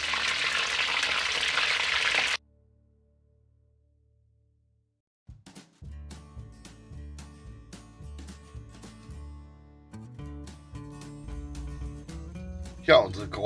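A cauliflower mushroom (Krause Glucke) fries in a full pan, giving a dense, close sizzle for a couple of seconds before it cuts off. Silence follows, then tonal background music.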